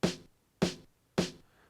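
A sampled snare drum hits three times at an even, unhurried pace, each crack short and bright with a quick decay, played alone and fairly quiet.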